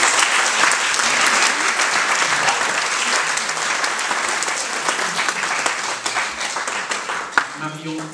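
An audience at the closing night of a film festival applauds the young audience jury, with dense, loud clapping that carries on for several seconds and ends in a few scattered claps.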